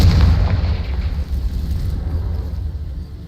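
A Confringo fire spell in Hogwarts Legacy lands as a loud, deep booming blast. Its rumble rolls out and gradually fades over a few seconds.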